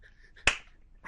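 A single weak, limp hand clap lands once, short and soft with a faint smack, set in near silence with a murmur of voice after it.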